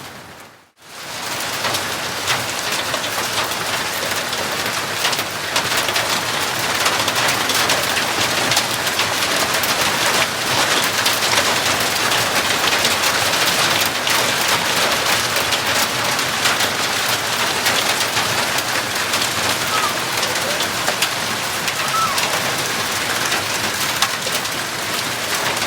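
Steady heavy rain falls after a hailstorm, a dense, loud, continuous hiss of drops hitting surfaces close by, lasting throughout with no voices.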